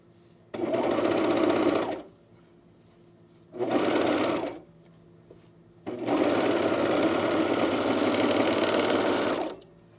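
A sewing machine stitches the front of a jumpsuit in three bursts, two short runs and one longer one, its rapid mechanical chatter loud and close with quiet pauses between.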